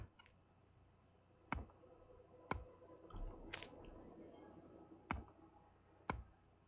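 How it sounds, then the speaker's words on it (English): A steady, high insect drone of cicadas in a video game runs throughout, quiet and constant, broken by a few sharp clicks and thuds at irregular intervals. "you hear the cicadas chirping away"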